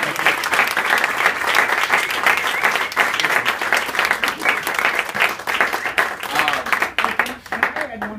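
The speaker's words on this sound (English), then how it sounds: "give a round of applause" A round of applause fills a rehearsal dinner, dense, lively clapping sustained throughout with crowd murmur and voices mixed in.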